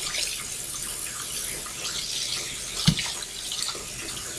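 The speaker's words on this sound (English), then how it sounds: "I'm just going to take about 30 seconds and wash this off and put it on a dry towel" A baking utensil is rinsed under a running kitchen tap, a soft steady water hiss with a brief splash or knock near the middle, quiet and close.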